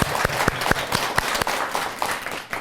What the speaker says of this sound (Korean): 박수 한번 고맙다고